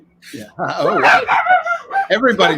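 A dog barks and yips excitedly in a few close, loud bursts, mixed in with a person's lively talk.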